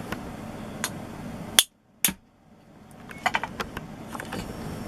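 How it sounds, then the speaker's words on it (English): A hammer knocks a stuck part out of the wooden stock of an AK47-style CO2 .177 BB gun during a strip-down, giving two sharp, close knocks about half a second apart, followed by faint scattered clicks of handling. "I just give it a little knock on the top with a hammer to knock that bit out of the wood"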